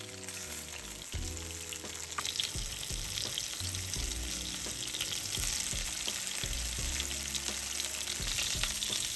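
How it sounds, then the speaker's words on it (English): Flour-coated pieces of frozen tofu pan-fry in a skillet, giving a steady close sizzle and crackle with scattered low knocks and clatters from the pan throughout, and no voices. "I pan-fry the tofu for a few minutes until both sides are crisp and"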